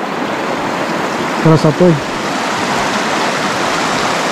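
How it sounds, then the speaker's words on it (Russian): The mountain river Psezuapse rushes in a steady, loud broadband roar of flowing water. A brief spoken word cuts in partway through. "и послушать горную реку."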